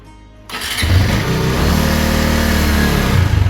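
After a quiet moment, a motorcycle engine cranks on a portable jump starter and fires up, settling into a loud, steady running rumble with slight revving up close.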